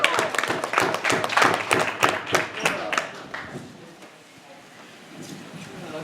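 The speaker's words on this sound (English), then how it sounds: "A big round of applause for Branden Milsk, everybody." Audience applause for a stand-up comedian at a comedy club, a loud burst of rapid clapping that thins out and fades over several seconds, with some crowd voices mixed in.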